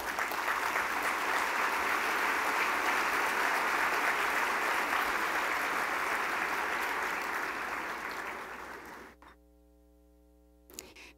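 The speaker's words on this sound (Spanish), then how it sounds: "por favor, lo recibimos con fuertes aplausos" Audience applause welcoming an ambassador to the stage at a Guatemalan business conference, sustained dense clapping from a large crowd that fades out near the end, leaving near silence and a single late clap.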